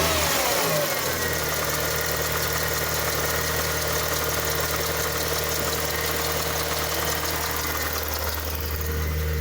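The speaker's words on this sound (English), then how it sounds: "We are doing a startup on the 1988 Ford Thunderbird right now." A 1988 Ford Thunderbird Turbo Coupe engine catches on a cold start and settles into a steady, close, loud idle with a fast-idle hum and no talking over it.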